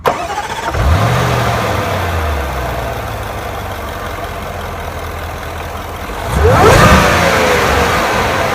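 A 2016 Range Rover Sport Autobiography starts up with a loud crank and rev, settles into a steady idle, then gets a strong throttle blip near the end, close and alone without talk.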